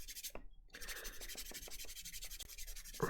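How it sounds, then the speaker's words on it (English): Rough sanding stick worked back and forth across a Warhammer miniature, a close, steady rasping scrape made of short repeated strokes that pause briefly near the start, with a louder rub at the end. "When I'm sanding with the rough sanding stick or paper, I try and go in as many different directions as possible."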